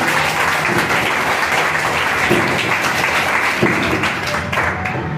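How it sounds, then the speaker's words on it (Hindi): Dense, loud applause fills an indoor gathering celebrating a couple's silver wedding anniversary, a continuous wash of clapping hands that holds steady throughout with no voices over it. "जोरदार तालियां"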